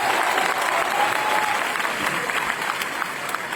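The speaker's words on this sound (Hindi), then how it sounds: "मैं चाहता हूं शिव कुमार सर के लिए एक बार जोरदार ताली बजाएं" An audience at a wellness business gathering in Lucknow bursts into loud, sustained clapping that fills the whole moment, dense and even with no pauses.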